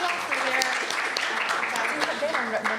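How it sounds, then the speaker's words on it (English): Audience applause thanking a panel at the close of a session on legal issues for blogging and online content, a short dense burst of clapping with some voices mixed in throughout. "A round of applause"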